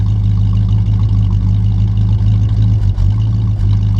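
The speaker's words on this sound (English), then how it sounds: "A little bit of a misfire there." A 1957 Chevy Bel Air V8 with true dual exhaust idles loudly and close, a deep steady rumble with a slight misfire showing as brief dips and stumbles in the beat.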